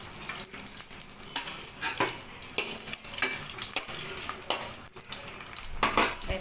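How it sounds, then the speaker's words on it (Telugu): Cashews, almonds and raisins fry in ghee in a small pan, a light sizzle broken by frequent spoon stirs and metallic scrapes against the pan, close and moderately quiet with no talking. "ఇప్పుడు మనం పక్కన నెయ్యి వేసుకొని డ్రై ఫ్రూట్స్ వేసుకుంటున్నాము"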